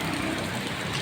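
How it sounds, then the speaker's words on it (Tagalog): Steady heavy rain pours down in a broad, unbroken hiss that fills the whole moment, with no voices over it. "Pag hindi tumigil talaga itong ulan"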